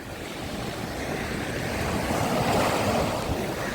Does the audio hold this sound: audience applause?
no